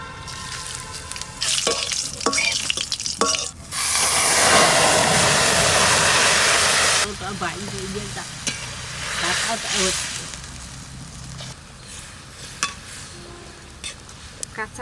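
Dried red chilies, black cumin and green chilies hit hot oil to temper a curry. A loud sizzling burst lasts a few seconds, then comes quieter stirring and utensil clatter while someone talks.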